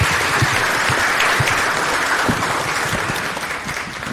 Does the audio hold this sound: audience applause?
yes